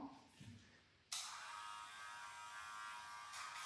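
A Dremel nail grinder switches on near a dog during a grooming and handling session, giving a steady, high-pitched electric buzz that runs continuously after a brief quiet start.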